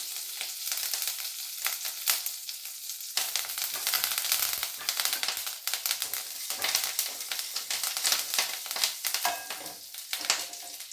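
Curry leaves tossed into hot oil after the mustard seeds have popped, cooking for amla rice and turkey berry fry, sizzle and crackle loudly and steadily with dense spitting bursts throughout.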